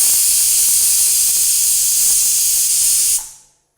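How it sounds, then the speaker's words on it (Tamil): A pressure cooker on the stove lets off a loud, continuous hissing blast of steam that cuts off abruptly near the end, heard close and alone. "நம்மளுக்கு 2 விசில் வந்துருச்சு."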